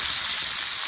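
Boiled jackfruit pieces fry in hot oil in a pan, giving a loud, steady, continuous sizzle with no talking.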